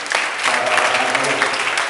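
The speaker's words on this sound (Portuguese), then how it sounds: "Aplauda o Senhor Jesus." Congregation applauding during an evangelical church service, a dense, steady wash of clapping that stays at an even level throughout.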